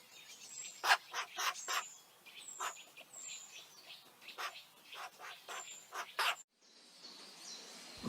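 A young buzzard calls in a series of sharp, high cries and thin whistles. The calls are spaced irregularly and sound fairly faint over quiet background, ending with a brief hiss.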